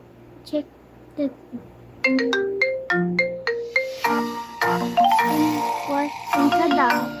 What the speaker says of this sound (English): and tada, you get your own ringtone.